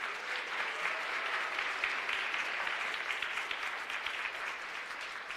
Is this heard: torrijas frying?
no